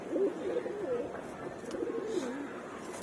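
Pigeons in a loft keep up a continuous low, warbling coo, several birds overlapping at moderate loudness throughout.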